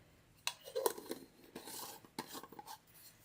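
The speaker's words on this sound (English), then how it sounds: "now I'm gonna put the lid back on" A lid going back onto a jar for a fake honey jar craft: faint close clinks and scrapes, a short crinkle, then small twisting rasps, all quiet with no talking.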